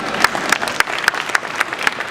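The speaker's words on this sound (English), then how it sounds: "Give him a clap." A crowd claps at a home show in Sydney, steady and fairly close, for about two seconds with a few sharper individual claps standing out.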